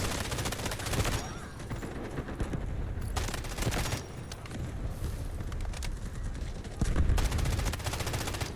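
Rapid automatic K416 rifle fire in the shooter game Delta Force, loud bursts of gunshots in several sustained volleys with short gaps between them and a heavy burst near the end, no talking.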